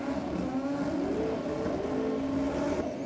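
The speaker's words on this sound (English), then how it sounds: "You see the Falcon just blaze the tyres." A Ford Falcon drag car doing a burnout at a Sydney drag and burnouts night, its engine roaring steadily with spinning tyres for about three seconds, loud and close with no break.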